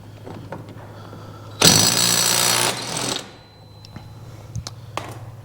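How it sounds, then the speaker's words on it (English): A small impact wrench hammers on a large front axle nut of a Honda Pioneer 1000 side-by-side in one loud burst of about a second, with quieter workshop clatter and ticks before and after. "This is a small impact for this job."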